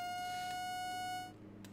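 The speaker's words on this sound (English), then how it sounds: "I keep on hearing these alarms going off." Electronic alarm beeps sound during live tornado outbreak coverage, with steady sustained tones that cut off after about a second, then fade into background hum.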